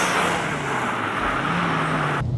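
Engine of a 550bhp four-wheel-drive-converted Ford Focus RS fitted with dump valves and a wastegate, a steady loud drone with a tonal hum, ending in a brief cutoff, no talk.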